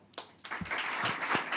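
Audience applause at the close of a formal presentation of a child safeguarding protocol, beginning with a few scattered claps and swelling quickly into steady, dense clapping from a crowd.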